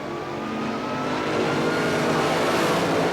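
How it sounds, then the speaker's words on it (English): Drag racing cars from 1977 leave the starting line side by side, their engines roaring loud and building steadily as they accelerate away, with no voices. "Side by side, they leave the line together."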